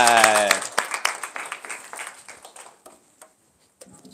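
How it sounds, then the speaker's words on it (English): Audience clapping after a student's talk at a school speaking event, a short loud burst with a voice over it, then thinning to a few scattered claps that fade out. "Let's give Mr. Omar a clap for that."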